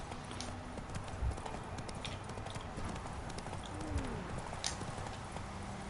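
The horse Roach clip-clops along in The Witcher III on PS4, a steady run of close hoofbeats over a constant ambient bed with faint birdsong.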